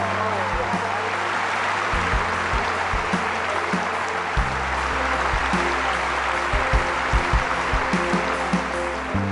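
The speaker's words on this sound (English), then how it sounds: "Let's give them both a round of applause" Applause from an awards audience, a broad, steady wash of many hands clapping at moderate distance, with low hum beneath it.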